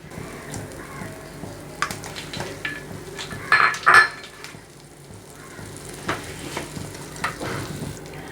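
Two tablespoons of butter heat in a pan on the stove for a white sauce, giving a low, faint sizzle, with a few clinks of utensil against pan and a brief louder scrape in the middle.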